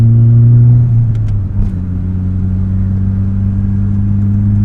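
Fiat Cinquecento 1.1 Sporting engine heard from inside the car, droning steadily, with the pitch dropping as it shifts gear and then holding a loud, even hum.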